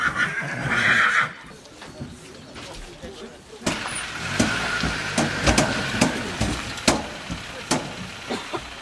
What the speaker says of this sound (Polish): Parę minut po 6:00 kolejne konie przyjeżdżają.